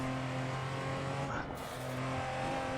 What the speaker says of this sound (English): Car sliding, 4-wheel slide there